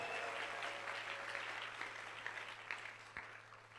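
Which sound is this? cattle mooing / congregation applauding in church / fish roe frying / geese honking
congregation applauding in church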